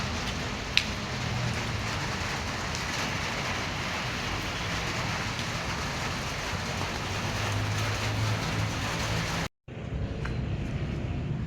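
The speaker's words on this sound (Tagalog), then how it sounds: "Ulan mga boss, oh. Tubig, oh." Steady rain pours down in overcast, stormy weather, a dense even hiss close to the microphone that continues unbroken except for a brief dropout near the end, with no voices.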